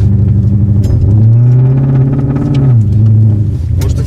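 A warmed-up car engine idles steadily at night with a low, continuous rumble, its pitch lifting briefly in a gentle rev before settling back down.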